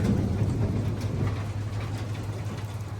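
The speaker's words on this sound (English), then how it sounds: "Yeah, it is currently raining" Steady rain from a storm falls outdoors at the Grand Canyon, a continuous soft hiss of drops with a low rumbling hum underneath, no voices.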